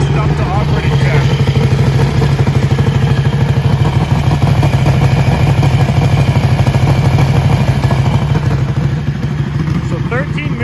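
A motorcycle engine idles steadily at close range while warming up toward operating temperature, a constant throbbing with light mechanical clatter; someone talks over it at times.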